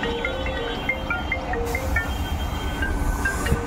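A Sheoraphuli local train pulls out of Tarakeswar railway station near ongoing construction work, its continuous rolling rumble steady throughout, with faint high metallic tones riding on top.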